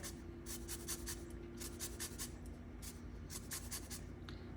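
Lemon being scraped over a zester, taking only the bright yellow peel, with a quick run of soft, rhythmic rasping strokes close by against a steady low hum and no talking.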